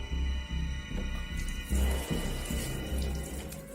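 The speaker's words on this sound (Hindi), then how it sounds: "आंखों पर पानी के छींटे मारे ही थे" Water runs from a tap and is splashed onto a face at a washbasin. The splashing is a steady, close, hissing patter with a brief louder surge partway through, and no voices.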